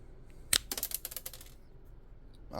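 Plastic clip on an RC hydroplane build being cut off, a sharp snip followed by a quick run of small clicking and rattling, then a soft rustle near the end.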